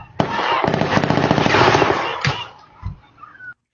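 Rapid bursts of gunfire at a swimming pool, dense rattling volleys of shots running continuously for about two seconds, then trailing off into a few scattered sounds.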